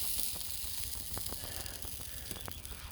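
A cheap store-brand pork loin roast sits on a rack over a grill, giving off a steady, close hiss of sizzling with faint crackles and pops throughout and no voices.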